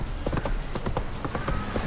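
Horse hooves clip-clopping at a steady trot in The Witcher 3, a quick, even run of close, distinct hoofbeats on hard ground, loud and clear with no talk.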